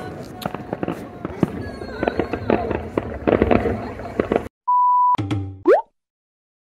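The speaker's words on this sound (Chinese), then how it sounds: "给你们看一下烟花" New Year's Eve fireworks to welcome 2022 pop and crackle in a rapid burst of sharp bangs for several seconds, then stop abruptly, followed by a few electronic beeps and a short rising whistle.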